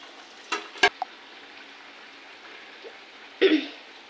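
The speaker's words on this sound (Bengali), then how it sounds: "আমি ভাজতে থাকি" Nimki snacks deep-frying in oil make a soft, steady bubbling hiss, broken by a few sharp clatters early on and a louder rattling burst near the end.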